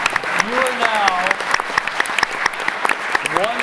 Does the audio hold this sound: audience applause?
yes